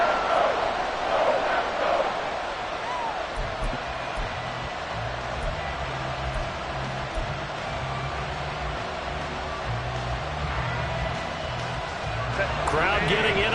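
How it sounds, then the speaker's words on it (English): A football stadium crowd at a Packers versus Chargers week 11 game roars as a steady broadband wash, swelling at the start and end, beneath continuous commentary. "Crowd getting in it a bit already"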